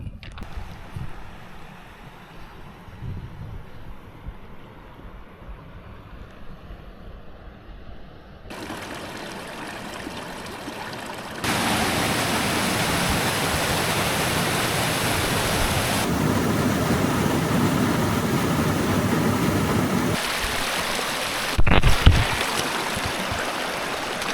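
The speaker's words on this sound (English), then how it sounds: "you can hear the water running pretty good from all the snow melt" A mountain stream swollen with snowmelt rushes beside a hiking trail in Alaska. The steady broadband roar grows louder and fuller partway through and keeps going with no speech.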